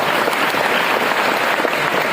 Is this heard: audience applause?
yes